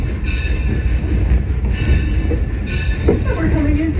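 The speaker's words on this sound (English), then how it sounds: "we're coming into the railroad junction" A train rumbles along the tracks toward a railroad junction, a loud steady roll with faint wheel squeal and clatter, close and continuous.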